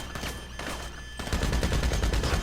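Shotgun fire in GTA V Online rings out in rapid repeated blasts, sparse at first and then a loud dense burst of gunfire in the game.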